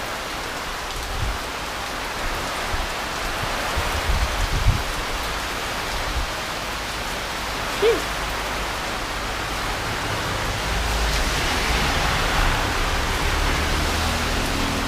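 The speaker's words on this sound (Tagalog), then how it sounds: "Napakalakas ng ulan." Heavy typhoon rain pounds steadily and loudly on surfaces nearby, a dense continuous roar with a few brief knocks, swelling slightly toward the end; no voices.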